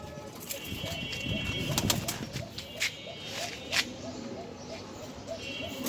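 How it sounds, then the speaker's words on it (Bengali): Arabian koka pigeons in a loft give soft, repeated low cooing that rolls on continuously at close range, mixed with a few sharp clicks and light rustling. "আমার কোকা আছে, অ্যারাবিয়ান কোকা, সারাদিন ডাকে, কি সুন্দর ডাকে"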